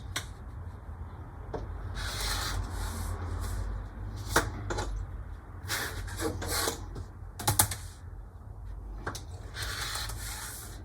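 Scissors snipping through fabric for a sewn phone case, irregular crisp cuts and rustling close by over a low steady background hum.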